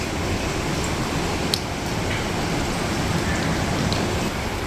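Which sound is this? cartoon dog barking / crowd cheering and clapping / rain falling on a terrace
rain falling on a terrace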